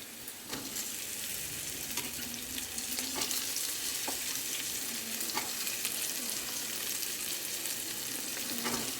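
Cut okra frying in plenty of oil for okra curry sizzles steadily and close, with a few sharp scrapes and knocks from stirring, no voices.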